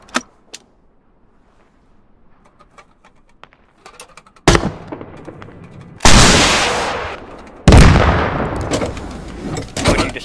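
Gunfire in the video game Squad aimed at a logistics truck: a few faint shots at first, then three loud heavy bursts of fire, each sharp onset followed by a decaying rumble.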